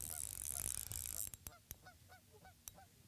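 Several geese honk in quick, scattered calls at a distance over soft background rustle, with a louder burst of noise at the start.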